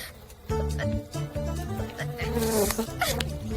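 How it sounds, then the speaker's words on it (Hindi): Mosquitoes buzz in a Hindi Motu Patlu cartoon, a loud, close, pulsing whine that swells and dips in a regular rhythm over a busy cartoon soundtrack. "यहाँ मच्छर, वहाँ मच्छर, जहाँ देखो वहाँ मच्छर ही मच्छर।"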